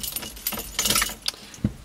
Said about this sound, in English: Where's my keys? Oh, here they are.